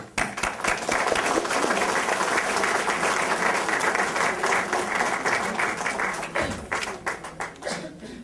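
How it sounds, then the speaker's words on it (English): An audience applauds honorees at an evening ceremony for a cultural organization, a loud, dense wash of many hands clapping that holds steady for several seconds, then thins into scattered individual claps near the end. "I think we should welcome them with a round of applause"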